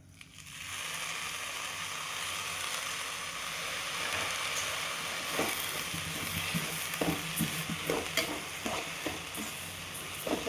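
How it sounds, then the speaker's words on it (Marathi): Homemade mukhwas seeds being dry-roasted with black salt in a pan and stirred: a steady, soft sizzling hiss, then a run of light scraping clicks and rattles from the stirring toward the end, with no voices. "अशा प्रकारे छान कोरडं होईपर्यंत छान भाजून घ्यायचं."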